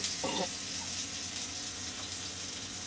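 Enoki mushrooms and beef sautéing with tomato in a pan give a steady, close sizzle and crackle throughout, with a brief louder burst of frying near the start.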